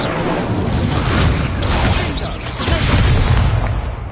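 A fiery Incendio spell blast in Hogwarts Legacy, a loud, dense roaring burst with rumbling booms that swell and sustain through the whole stretch, with no talking over it.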